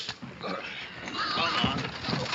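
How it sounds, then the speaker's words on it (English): Pigs crowded in a cart grunt and squeal in a dense, restless jumble, mixed with indistinct voices and general commotion nearby. "Cart don't reckon to hold more than 10 pigs."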